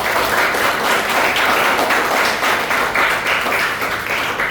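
A group claps together in a dense, steady round of applause, close and lively, with no voices over it.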